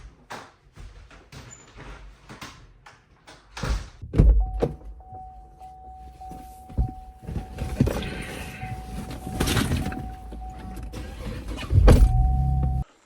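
Inside a car before a drive, scattered thunks and a door slam are followed by the steady whirring of power windows, with more knocks and a heavy thud close by.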